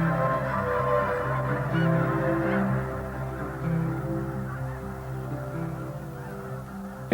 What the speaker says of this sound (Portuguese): salvar os últimos gansos das neves da Rússia